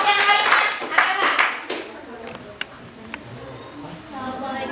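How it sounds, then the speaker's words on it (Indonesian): A class claps for a student group, a short burst of hand claps at the start that fades into a few isolated claps, followed by a quiet stretch with voices returning at the end. "Silakan tepuk tangan untuk kelompok bunga."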